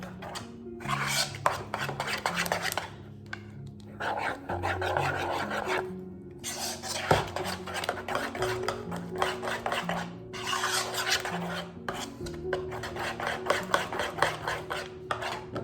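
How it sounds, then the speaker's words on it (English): A spoon works through a thick, runny mix of overnight oats and chia seeds in a bowl, giving steady scraping, rasping strokes in bursts with short pauses, close and fairly loud over soft background music. "Then mixing that into your mixture."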